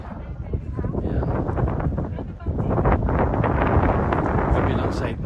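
Strong wind blows across the microphone at Waterton Lake in Alberta, a loud continuous gusty rumble that dominates throughout, with a slight dip partway before rising again.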